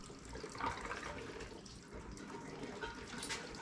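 Gasoline poured into the fuel tank of a fuel-injected Harley-Davidson Sportster motorcycle, a steady, close liquid stream running for several seconds without a break.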